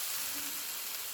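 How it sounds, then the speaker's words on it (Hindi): Chicken pieces fry in a pan of oil for a chicken and potato curry, a soft, even sizzle heard alone over a brief second. "चिकन डालकर आपने इसको भूनना है तकरीबन"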